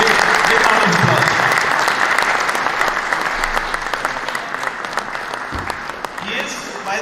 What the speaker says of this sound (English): Please give round of applause.